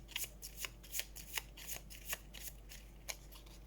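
Equipment cards for the Assassin's Creed Brotherhood of Venice board game are shuffled by hand, producing a quick series of soft, crisp riffling bursts close up in a quiet room.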